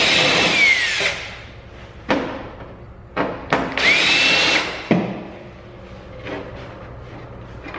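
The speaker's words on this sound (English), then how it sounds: "So I'm gonna take these screws out and then re-drill it." A cordless power drill backs screws out of a widebody panel on a 1990 NA Miata, in several loud whirring bursts of about a second each separated by short pauses, with one sharp clunk among them.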